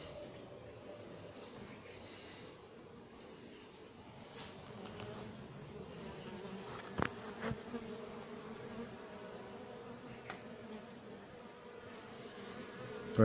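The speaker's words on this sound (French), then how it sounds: "Voilà encore une abeille complètement noire." Steady low buzzing from many honey bees at an apiary hive during feeding, a dense continuous drone with a few faint clicks and bumps near the end.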